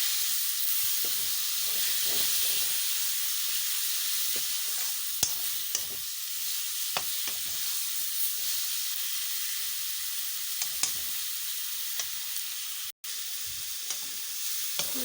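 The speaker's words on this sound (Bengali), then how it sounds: "মাশরুমগুলিকে দিয়ে এগুলিকে ভালোভাবে কষিয়ে নেব" Mushrooms sauté in spiced oil, a continuous loud hiss and sizzle with bursts of crackle and occasional clinks of stirring, close-up and uninterrupted by speech.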